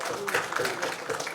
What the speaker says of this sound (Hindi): तालियां इनके लिए हो जाए।